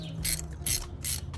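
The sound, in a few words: ratchet loosening a spark plug on a Hyundai Elantra N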